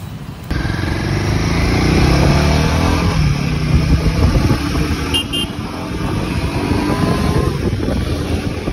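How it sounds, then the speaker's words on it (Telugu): A Royal Enfield Himalayan 450 motorcycle is ridden at full throttle through city streets, its engine roaring loud and close under heavy wind rush, with a brief horn toot partway through. "ఒకసారి ఫుల్ థ్రాటల్ ఇచ్చి టెస్ట్ చేద్దామని అనుకున్నా."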